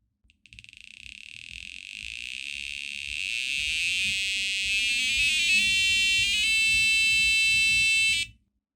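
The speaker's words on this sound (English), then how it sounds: "We were able to sample the potentiometer for a frequency between, say, 0 and 440 hertz, and now we can create that tone." A Micro:bit drives a steady electronic tone whose pitch a potentiometer knob sets, and it sweeps in steps as the knob turns. The tone is loud and alone, starts after a brief pause, and cuts off abruptly.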